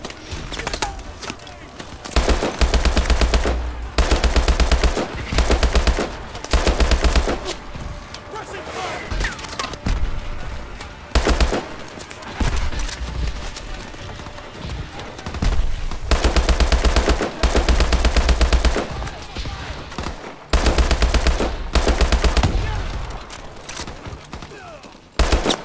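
Loud automatic gunfire from the shooter game Call of Duty: Advanced Warfare arrives in repeated rattling bursts, some long and sustained, broken by brief quieter gaps, with occasional heavy thuds mixed in.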